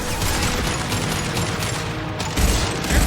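Rapid gunfire and a heavy grenade blast in the sci-fi shooter Mass Effect 2, a dense continuous volley of shots with deep booming thumps swelling near the end, loud and close.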